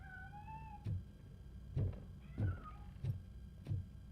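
A cat meows several times in a video game, short sharp calls recurring roughly every half second to second, clear and close over a low steady background hum.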